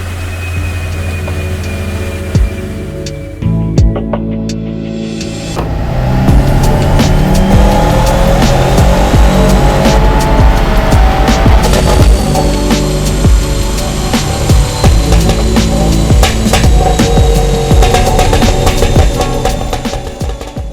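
A Subaru WRX STI with an aftermarket downpipe and stock exhaust, its engine note loud and close with rising revs and hard acceleration, a brief dip in level early on before a sustained roar.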